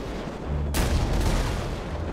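A single loud gunshot blast in the GTA 5 video game destroys a car, a sharp broadband crack followed by a sustained rumbling boom and low roar that lingers to the end.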